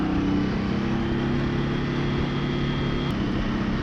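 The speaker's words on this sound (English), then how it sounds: "second gear, revving that one out, that helps you get up to speed." An Indian Scout Rogue motorcycle revs out in second gear while riding, a loud steady engine drone with rising harmonic tones and a brief pitch drop near the end, heavy wind rush around it.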